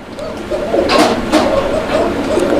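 Male fancy pigeon cooing up close, a series of soft, rhythmic throaty coos repeated several times over faint background noise.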